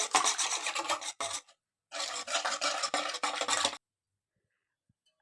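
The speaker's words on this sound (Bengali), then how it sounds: "এখন ডিম আর চিনির মিশ্রণটা দুধের ভিতরে দিয়ে ভালোভাবে হুইস্কের সাহায্যে একটু নেড়ে নেব।" A whisk scrapes and stirs an egg and sugar mixture into milk in a bowl for pudding: two bursts of quick rhythmic rasping, close and clear, separated by a brief pause, then quiet.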